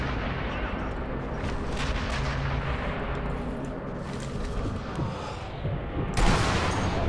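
Gunfire and heavy blasts in the sniper video game Sniper Elite V2, a dense rumbling stretch of shots with a sharp loud burst near the end, no speech over it.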